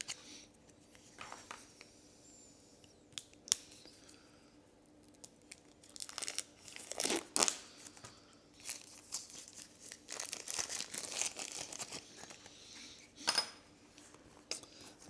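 Box cutter slicing into board game packaging of cardboard and plastic wrap, heard as close, faint scattered crinkles, tearing and scraping bursts with quiet gaps between, no voices.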